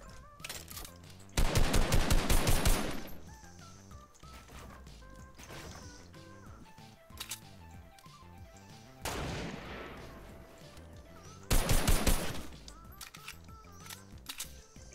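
Video game gunfire, two long loud bursts of rapid automatic shots separated by quieter stretches of single shots, impacts and game sound effects, close and punchy.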